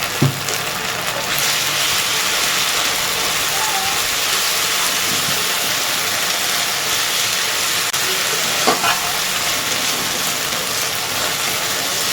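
A paste of ginger, garlic, onion and green chili hits hot oil for a crab curry, producing a loud, steady, close-up sizzle and hiss that lasts throughout, with a couple of brief clatters.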